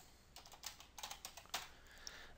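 A password typed on a computer keyboard, a short burst of light, quick key clicks in an irregular rhythm, close and fairly quiet with no talking.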